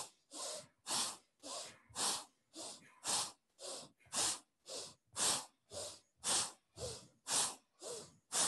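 Rapid bhastrika yoga breathing, a steady train of about fifteen forceful, snorting exhalations through the nose at roughly two per second, close and loud with no talk over it.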